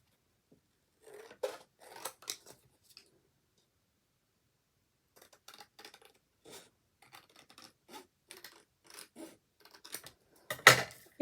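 Scissors cut paper around a piece for a scrapbook album page, close and quiet, with short bursts of crisp snips separated by silent pauses and a louder cut near the end.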